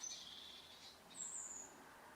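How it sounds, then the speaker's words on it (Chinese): Wild birds call near a balcony in a quiet outdoor setting, with two or three faint, thin, high chirps over soft background hiss. "大家可以听到这里有很多鸟叫声啊"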